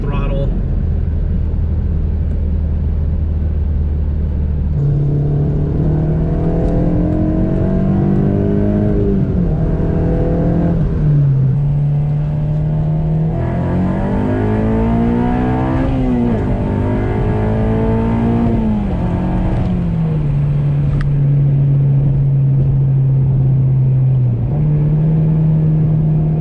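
Honda VTEC car engine accelerating at partial throttle, a loud continuous drone that climbs in pitch through several gear pulls and dips at each shift, with talk faintly heard under the engine.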